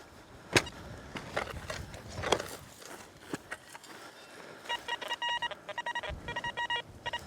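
Metal detector signal over a freshly dug target that may be scrap aluminium, on a deserted medieval village field in the UK: rapid repeated electronic beeps in short bursts, loud and close, after scraping and handling noises of digging.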